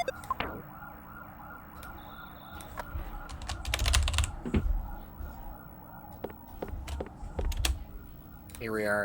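Quick bursts of keystrokes on a computer keyboard clatter close by in irregular runs, with a faint background hum.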